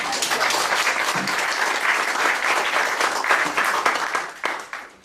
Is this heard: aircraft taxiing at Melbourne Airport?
no